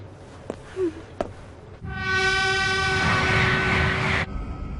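Local train pulling into a station platform, a loud rumbling roar with a sustained horn-like tone that swells for a few seconds and cuts off, following a couple of brief clicks.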